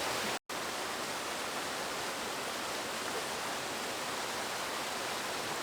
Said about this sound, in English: in the foreground I've got this waterfall, in the background I've got the bridge at the back